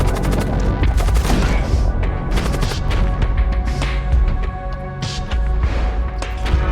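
Twin disruptor and thunder cannon fire in the space combat game Void War, a dense barrage of sharp blasts and booming impacts in rapid succession over a steady electronic hum, loud and continuous.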